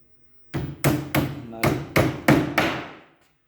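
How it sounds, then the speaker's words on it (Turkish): A hammer driven with a pulling tool strikes a Bygolden mirrored bathroom cabinet during assembly: six loud, close, ringing blows in a quick uneven series, each decaying before the next, no talk. "Şöyle düzledikten sonra çekişle çakıyoruz."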